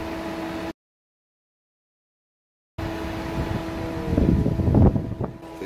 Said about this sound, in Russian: То есть вентилятор замедлился, выключился.